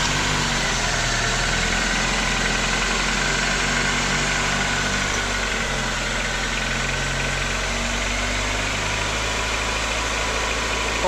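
A Honda engine idles steadily after a valve adjustment as it warms up from cold, giving a constant low rumble with a faint ticking, close and loud without a break.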